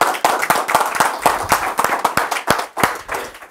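Pentecostal church congregation clapping to Christ, sharp rhythmic hand claps in a steady, lively beat, close and loud with no talking.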